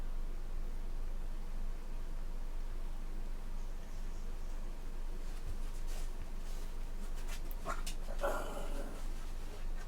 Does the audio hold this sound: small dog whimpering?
yes